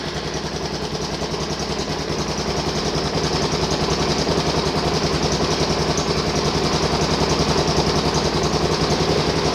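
An engine that has just been started idles steadily and loudly up close, with an even low pulsing throb and no voices.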